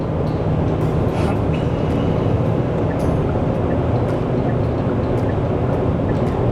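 Steady, loud cabin drone of a Jetour T1 crossover engine holding about 2500 rpm during a test drive, a continuous low rumble mixed with road noise, without talk.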